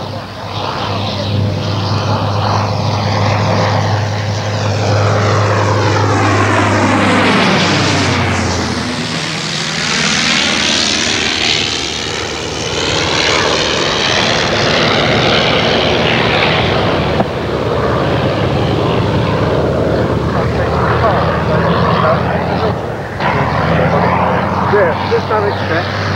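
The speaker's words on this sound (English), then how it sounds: "Once more, the Sopwith Pup." A Sopwith Pup biplane's engine drones loud and steady through a long flypast, the pitch sweeping down as it passes by, with a voice talking over parts of it.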